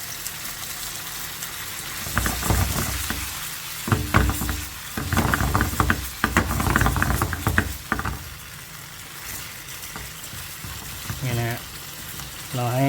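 Chicken liver stir-fried with garlic over high heat in a pan, with bursts of scraping, clattering stirring and a steady sizzle rising and falling across the middle, quieter hiss before and after.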